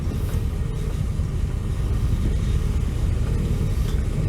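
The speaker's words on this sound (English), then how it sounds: "we've got a suspension test coming up because this speed hump is brutal" Old VW Scirocco rolling over a harsh speed hump, with a steady low engine and road rumble close up and no sharp impact standing out.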